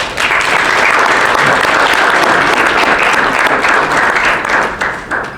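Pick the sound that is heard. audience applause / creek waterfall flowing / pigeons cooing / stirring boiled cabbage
audience applause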